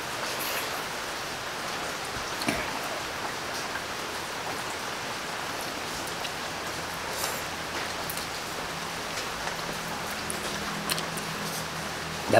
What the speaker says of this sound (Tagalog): Masama yung panahon. Umuulan.